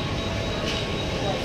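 A moving passenger train at night, heard from inside a nearly empty carriage: a loud, continuous rumble and rattle of wheels on the rails that stays steady throughout.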